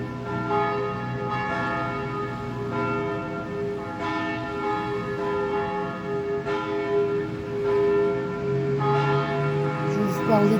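Church bells ring loudly and continuously in front of a presbytery, with repeated strikes every second or two over a rich, sustained hum of overlapping tones.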